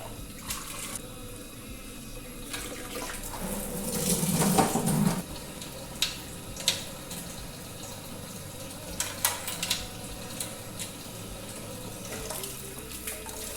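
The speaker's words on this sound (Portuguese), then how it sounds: "vamos erguer o cesto para escorrer os grãos da nossa cerveja" Wort drains from a lifted grain basket while a lager beer is brewed, a soft steady trickle and splash of liquid with a brief louder gush, plus scattered clinks and knocks close by.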